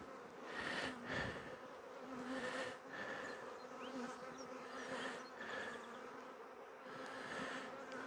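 Honey bees swarm around an open hive and mini nucs at an apiary inspection, a dense continuous buzz close by that swells and eases in waves, with no talking.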